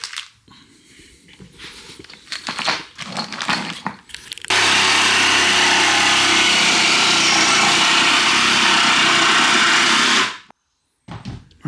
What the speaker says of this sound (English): just cutting that down to match that size and giving it a sand